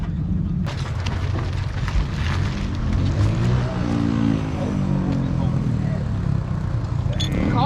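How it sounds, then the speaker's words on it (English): A car clutch and flywheel blow apart at a drag race on an outdoor mountain raceway, with a loud, continuous roar of engines and crowd noise filling the whole stretch and no clear single bang standing out. "That clutch just blew to pieces"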